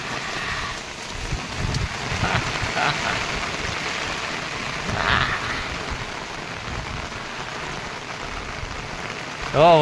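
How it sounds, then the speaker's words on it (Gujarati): Heavy monsoon rain in a Gujarat village, a dense, steady hiss of falling water with some wind buffeting the microphone, a brief tonal sound at the very end. "વરસાદ પડે છે ધોમધોકાર એવો."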